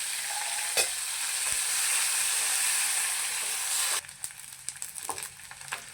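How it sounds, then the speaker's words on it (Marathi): Bombil, Bombay duck fish, fries in a pan with a loud, dense sizzle that cuts to a quieter crackle after about four seconds, with sharp clatters of a utensil against the pan. "त्यावर आपल्याला बोंबील फ्राय करून घ्यायचे आहे"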